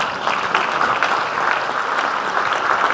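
Sustained audience applause at the Grobnička skala 2017 music festival award ceremony, a dense, even wash of many hands clapping that rises quickly and holds steady at a fairly loud level for the whole stretch, with no talking.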